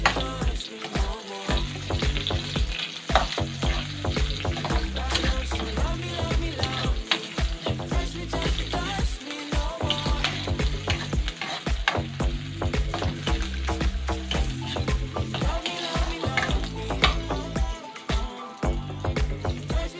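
Onion frying in a pan for chicken curry, a steady loud sizzle with stirring scrapes running throughout, under continuous rhythmic background music and no talk.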